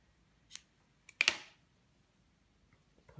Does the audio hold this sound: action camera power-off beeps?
no